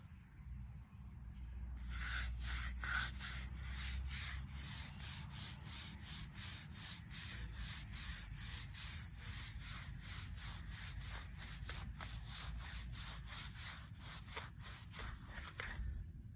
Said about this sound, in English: I'm basically just scraping the crud off the bottom.